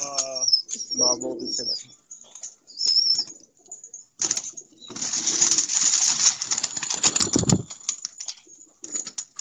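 Rampuri pigeons at a home loft, with bursts of wing flapping in the middle and faint coos and chirps, while someone speaks briefly near the start.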